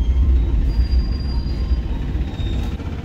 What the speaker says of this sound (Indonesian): KA Siliwangi telah berhenti di stasiun Cibeber